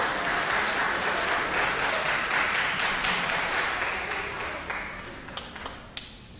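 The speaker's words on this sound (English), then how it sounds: "would you give them a round of applause before I pray?" An Anglican church congregation applauds at a Father's Day service, a dense and steady wash of clapping that thins out toward the end into a few scattered, sharper claps.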